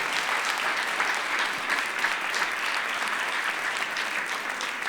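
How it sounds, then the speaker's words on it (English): Steady applause from an audience at a community volunteer awards ceremony, a dense even wash of clapping that holds for about five seconds with no voices over it. "And yes, you may applaud them."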